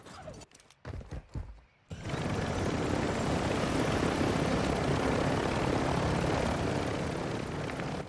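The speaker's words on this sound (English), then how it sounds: "It's probably a good idea to go to the nearest helicopter." Helicopter in Call of Duty Warzone 2.0, after a few short thuds, settles into a loud, steady rotor and engine roar that holds without a break for the rest of the clip.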